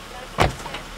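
A Honda Pilot door shuts once with a single firm thud at an outdoor picnic spot, faint background noise around it.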